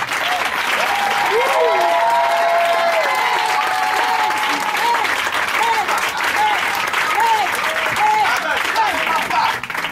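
A church congregation at a Sunday service applauds in sustained, loud clapping that fills the room, with a voice and sung or shouted tones rising over the crowd.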